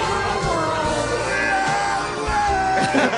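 A man on a radio talk show screams in the background, a harsh, sustained yell blended into a dense wash of studio noise.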